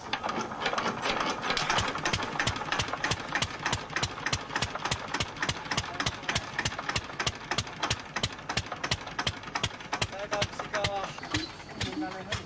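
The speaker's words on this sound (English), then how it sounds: "invested in a diesel-powered compressor" A diesel-powered compressor at a jade mine runs steadily, a fast regular mechanical chugging and clatter that is continuous and fairly close, with no clear talk over it.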